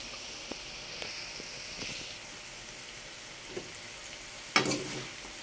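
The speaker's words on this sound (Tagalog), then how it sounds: "Ilalagay na po natin yung ating sahog na hipon." Shrimp sautéing in a frying pan for a Filipino stir-fry with mung bean sprouts and tofu, a soft, steady sizzle with scattered clicks of stirring and a sharper clatter near the end.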